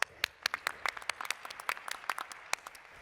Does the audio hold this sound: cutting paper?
no